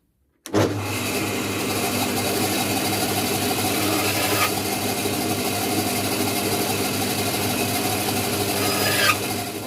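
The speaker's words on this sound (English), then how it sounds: "we'll cut these really short because we just want little short dumpy legs" A saw runs continuously at close range, cutting short wooden legs for a small woodturned pig. The loud, steady rasping whine starts sharply and holds with little change until it ends, with no talk.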